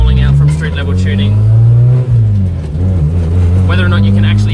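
A car with a loud exhaust rolls out from a tuning shop on its way to the track, its engine droning low and steady close by as loose tools rattle inside, while people talk over the noise.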